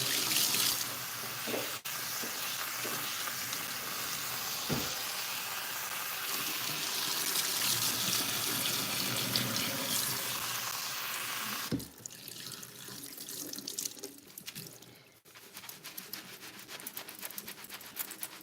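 A tap runs steadily into a sink while hair is washed under it, a continuous close rushing of water with brief shifts and splashes as the stream is interrupted, no talking.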